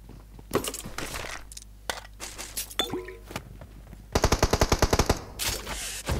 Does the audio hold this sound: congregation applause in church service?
no